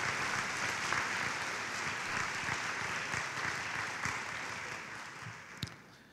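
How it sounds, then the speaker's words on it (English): Audience applause at an awards show: a steady, dense wash of many hands clapping, moderately distant and sustained throughout, with one sharper clap standing out near the end. "To give them a big round of applause"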